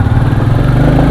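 A Royal Enfield Classic 350 motorcycle engine with the J-platform single-cylinder runs at a steady, even idle, a close, continuous low thrum with no talk over it.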